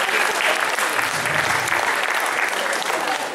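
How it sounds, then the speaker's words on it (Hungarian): Audience at an anime convention award ceremony in Pécs, 2013, breaking into dense, steady applause that fills the whole stretch at full loudness, with no voice on top. "De azért tapsoljuk meg,"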